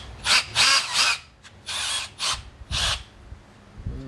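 A handheld hammer drill set to hammer mode runs in several loud, rough bursts of roughly half a second to a second each, separated by short pauses, close up with no talk.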